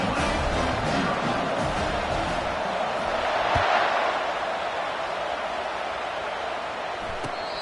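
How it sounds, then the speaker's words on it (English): Steady roar of a stadium crowd in a college football video game, Kingtlow against LSU, sustained and loud throughout with a brief swell in the middle and a couple of sharp thuds. "this crowd is fired up. Listen to this noise here."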